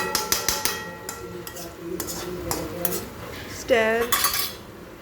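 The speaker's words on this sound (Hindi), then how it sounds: "तो टमाटो ऐड करने के बाद थोड़ा स्टर करेंगे इसको।" A utensil scrapes and clinks against a pan while tomatoes for red sauce pasta are stirred, with quick close metallic taps early on and softer scraping later over faint background sound.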